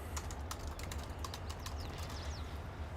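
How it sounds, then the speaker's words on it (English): Light, quick keystrokes tap on a computer keyboard in an uneven rhythm, close and fairly quiet over a low steady hum. "I'm typing for no apparent reasons"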